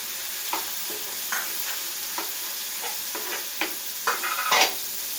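Ginger garlic paste frying with spices in a hot pan for a village-style tomato chicken pickle, a steady low sizzle with intermittent stirring scrapes and clinks of a spoon against the pan.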